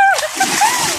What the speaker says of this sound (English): This is gonna go in the video where we do all that shots of us jumping into a pool.